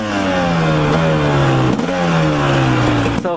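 A motorcycle engine revs hard and loud up close, its pitch sweeping up and down in repeated surges with a brief dip midway, no voices over it.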